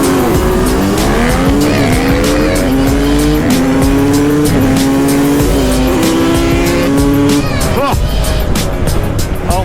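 Racing mopeds at a big rideout at Frihamnen in Sweden scream past in a loud, continuous buzz of rising and falling revs, with tire squeal and crowd noise layered underneath.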